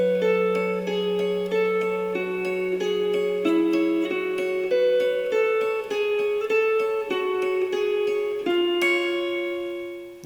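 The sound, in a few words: guitar playing the second section of a main theme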